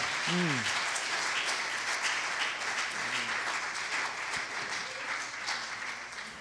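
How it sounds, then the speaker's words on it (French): A church congregation applauds through a worship service, a dense steady spatter of claps filling the space, with brief sung or called-out voices rising above it. "Est-ce qu'on peut donner une main d'acclamation au Seigneur ce matin?"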